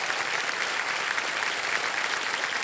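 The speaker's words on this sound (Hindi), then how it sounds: "एक बार जोरदार तालियों के साथ इनका भी स्वागत किया जाए।" Steady applause from a studio audience greeting a contestant's father on a televised quiz show, dense and even clapping that fills the whole stretch without a break.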